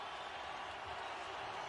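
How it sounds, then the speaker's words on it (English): A steady, distant wash of crowd applause fills an NFL stadium at a 49ers home game against the Buccaneers as fans honor an injured player, soft and even throughout. "This crowd's letting him know how much they appreciate him,"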